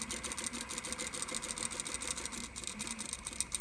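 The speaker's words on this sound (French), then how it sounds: "je tourne et là je couds au plus près du pince-nez pour le bloquer" A sewing machine runs steadily in a rapid, even whir, close and alone, stitching a fabric face mask tight against its nose wire to lock it in place.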